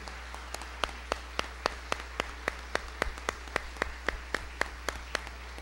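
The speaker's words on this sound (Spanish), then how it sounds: "Un fuerte aplauso para ellos." At a Colombian music tribute ceremony, slow, sparse clapping sounds in an even rhythm, about twenty distinct claps spaced roughly a quarter second apart, fairly faint over a low hum.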